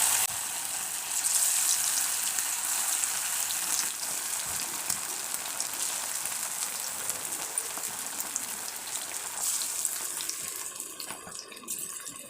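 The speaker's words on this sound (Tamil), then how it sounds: "நம்ம எண்ணெய் காஞ்சிடுச்சு. இப்போ நம்ம போட போகிறோம் சிக்கனை." Chicken pieces for crispy Chicken 65 sizzle steadily as they deep-fry in hot oil, a dense, continuous hiss and crackle that stays even and close throughout, with no talking.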